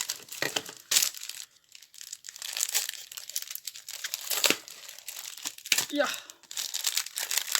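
Plastic packaging holding craft sequins crinkles and crunches in repeated handling bursts, close and fairly loud, with a person talking and muttering over much of it.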